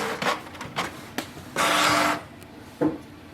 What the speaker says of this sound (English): It will ask you if you want to print the nozzle check pattern